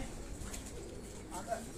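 Heera laal pigeons from the late Ustad Dilawar Khan's home coo softly and low in a steady murmur, with a faint, brief higher note near the end and a constant background hum.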